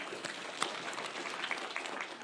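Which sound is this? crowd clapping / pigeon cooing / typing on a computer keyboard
crowd clapping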